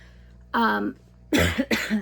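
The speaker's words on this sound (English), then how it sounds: "If you hear me coughing, I will try to edit as much of it out as I can" A person coughs close up, a single cough followed by a quick double cough, loud and harsh.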